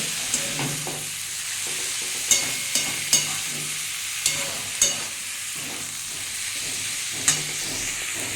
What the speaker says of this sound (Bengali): সেগুলো এবার দিয়ে দেবো যে বন্ধুরা ভালো করে নাড়াচাড়া করে নেবো